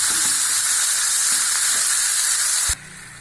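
Tomatoes with salt sautéing in a pan for cauliflower varuval give a loud, close, steady hissing sizzle that cuts off abruptly near the end, leaving a quiet background; no talking.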